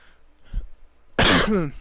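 A soft throat-clearing rumble followed by one sharp, loud, raspy cough close by, with no speech.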